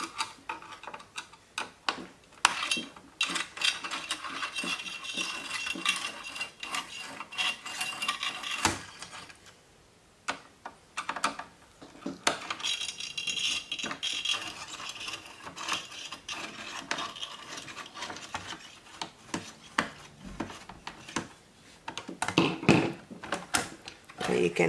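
Screws on the CPU cooler of a Dell Optiplex 990 SFF desktop are loosened, giving repeated close ticking, ratcheting clicks in irregular bursts, with a person talking at times.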